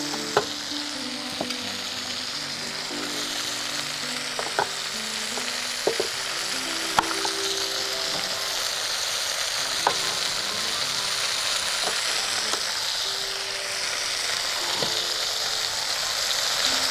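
Garden-picked onion sizzles steadily in a hot pan of chalta chicken, a constant close frying hiss with occasional sharp clicks and taps from stirring throughout.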